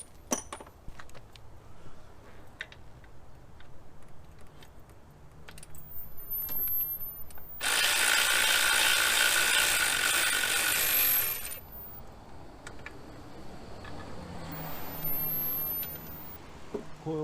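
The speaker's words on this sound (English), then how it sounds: "the back one I'm gonna get at with a 13 mil wrench" A 13 mm wrench works bolts loose on a Chevy Impala engine while fuel injectors and the plenum are removed. Scattered metallic clinks and jangles lead into a sustained harsh ratcheting stretch, then lighter rattling, close by and without speech.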